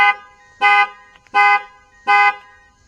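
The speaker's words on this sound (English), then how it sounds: "Set the alarm off in the old Taurus" A Ford Taurus car alarm blares in three loud, evenly spaced horn-like bursts, each lasting about a quarter second, with quiet gaps between them and no talking.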